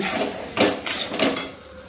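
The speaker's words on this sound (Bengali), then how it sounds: "ততক্ষণ খুন্তি দিয়ে নেড়ে যাব" A spatula scraping and stirring green pea kachori filling in a pan over a medium flame: a few distinct metallic scrapes and taps over a soft, steady sizzle, close and moderately loud, with no talking.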